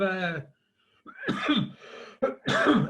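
A presenter coughs during a lecture on CO2 emissions from electricity sources, a few harsh, close throaty coughs in separate bursts with short silences between them.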